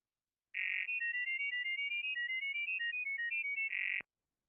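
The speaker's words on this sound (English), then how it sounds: "I want to play what GGWave sounds like." A GGWave data-over-sound transmission plays alone for about three and a half seconds: rapid chirpy electronic tones hop between pitches, with a steady burst at the start and another at the end.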